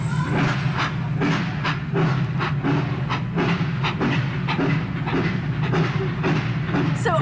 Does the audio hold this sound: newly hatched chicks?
no